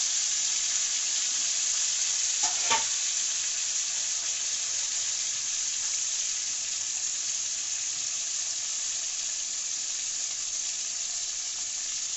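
Fish frying in a pan gives a steady, close hiss of sizzling oil that holds evenly throughout, with one brief clink near the start and no talking.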